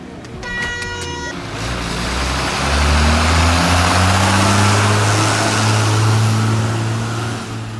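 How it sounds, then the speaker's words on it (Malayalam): Trucks labour up an uphill road close by with a loud, swelling engine drone that rises in pitch as they climb. A multi-tone horn blares at the start, and a voice is heard faintly. "ഇവിടെ ഒരു കയറ്റാണ്, അതുകൊണ്ട് തന്നെ ഈ ട്രക്കുകൾ കുറേ പോകുന്നുണ്ട് രാവിലെ തൊട്ട്"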